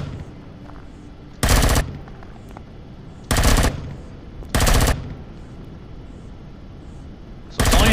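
Four loud bursts of automatic weapon fire from the space survival game Empyrion - Galactic Survival, each lasting about half a second, spaced irregularly over a low steady ambient hum, with no talking.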